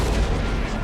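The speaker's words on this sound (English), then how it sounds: "give them some canister shot" Canister shot fired by artillery in a Napoleon Total War battle: a single loud, dense blast with a heavy low rumble that fills the whole brief moment.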